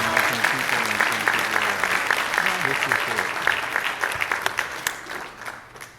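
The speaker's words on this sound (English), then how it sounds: "Let's give these two ladies a round of applause." Applause from the audience at an adult class commencement ceremony, dense clapping that holds steady and then thins into scattered claps as it fades, with some talk underneath.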